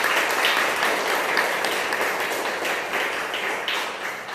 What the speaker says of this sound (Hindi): तो चलिए हम एक बार जोरदार तालियों से उनका